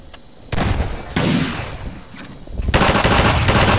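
Bursts of gunfire from a weapon in a Garry's Mod zombie survival game, loud repeated shots arriving in several bursts over a few seconds, with no talk.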